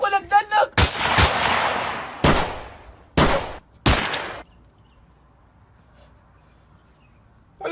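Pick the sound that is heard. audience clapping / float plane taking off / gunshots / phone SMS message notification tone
gunshots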